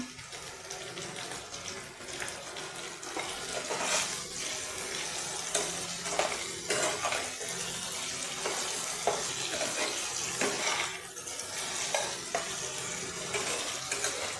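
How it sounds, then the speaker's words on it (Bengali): Small cubed potatoes with salt fry in oil in a pan, a continuous close sizzle with intermittent scraping and clinks of stirring. "আলুটা একটু ভাজা হয়ে গেলে"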